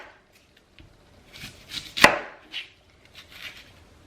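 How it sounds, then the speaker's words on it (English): A knife slices through organic onions on a cutting board, a handful of soft, separate cuts with one sharp, louder chop in the middle, close and quiet with no talking. "Next, we're going to slice our onion."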